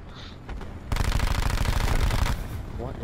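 Rapid automatic gunfire from a suppressed weapon in the video game Black Ops 4, a dense, loud burst of shots lasting well over a second amid game sounds.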